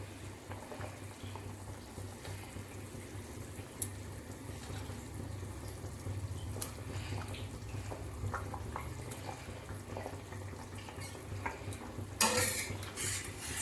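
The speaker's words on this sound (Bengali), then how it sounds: "মাছের ঝোলটা সুন্দর ফুটে উঠেছে এবার আমি একে একে সব মাছগুলো ভাজা মাছগুলো দিয়ে দেবো" Catla fish curry with potatoes boiling in a kadai as fried fish pieces go in, a steady low bubbling hiss with scattered light utensil clinks and a louder clattering burst near the end.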